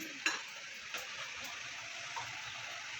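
Soft, dry sizzling of spices roasting in a pan, with a faint scrape or tap near the start, fairly quiet and continuous.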